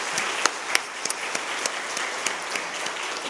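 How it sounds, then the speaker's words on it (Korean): A church congregation gives applause of thanks and encouragement during a Wednesday worship service for sending out a short-term mission team, a steady crackle of many hands with a few sharper individual claps standing out. "같이 감사와 격려 박수 하도록 하겠습니다"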